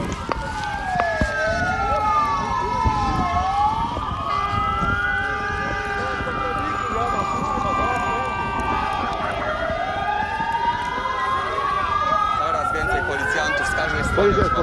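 Police sirens wail continuously, rising and falling in overlapping sweeps, loud and close, with crowd noise underneath from a street march in Warsaw.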